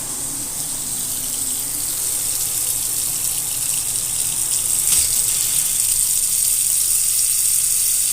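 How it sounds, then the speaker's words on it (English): Water trickles and hisses steadily through the plumbing lines of a Dollar General store in Curtis, Michigan, after air is bled out of a cold supply with no pressure, a continuous close, even wash with a brief gurgle midway. "Just had to bleed the air out of the lines in here. You could hear that trickling down."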